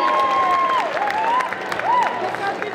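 An audience at a cosplay conference at a Japan and manga convention in Saint-Étienne claps and cheers, a dense mass of applause with a voice speaking over it.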